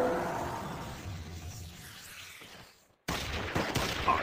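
Rapid gunfire from the shooter game Eat Lead: The Return of Matt Hazard rattles in a dense, sustained burst. It fades out, drops to a brief silence, then a fresh volley of shots cracks back in loudly.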